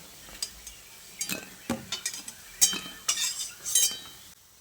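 Fried banana-flower fritters being lifted out of a frying pan, with a series of sharp metallic clinks and scrapes of a utensil against the pan, irregular and close, over a faint background.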